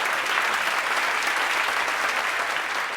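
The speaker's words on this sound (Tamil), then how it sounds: "அவருக்கு பலத்த கரவொலியோடு இந்த விருதினை நாம் அனைவரும் வழங்க வேண்டும் என்று கேட்டுக்கொள்கிறேன்" An audience at an award ceremony applauds an award recipient with dense, sustained clapping that stays loud and even from start to finish.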